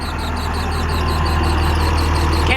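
A Kenworth K100 truck's engine runs with no muffler, a steady, loud, unbroken rumble with a strong low drone and rough raspy texture throughout, close by, with no talking over it.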